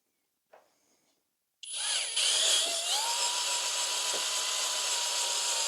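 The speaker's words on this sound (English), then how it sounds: "I'm going to set this in the vise and drill these 2 holes" A power drill bores into a hockey puck clamped in a vise; after a short quiet pause it spins up to a steady high whine that continues unbroken, close and clear.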